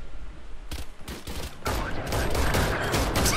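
Rapid gunfire bursts in the Valorant first-person shooter, a few sharp shots followed by dense, sustained volleys of loud close firing with no talk over it.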